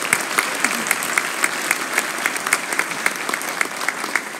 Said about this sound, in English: So just a brief round of applause for those two for working really hard to do that.